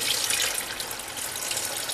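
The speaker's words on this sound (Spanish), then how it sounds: "Agregamos agua" Water pours steadily into a blender holding cauliflower batter ingredients, a continuous soft splashing stream with no talk.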